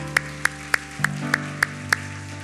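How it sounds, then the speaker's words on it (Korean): A church congregation at a Sunday worship service claps in unison, seven sharp, evenly spaced claps over sustained keyboard chords. "우리 다시 한번 하나님 앞에 영광과 감사의 박수 한번 올려드리도록 하겠습니다."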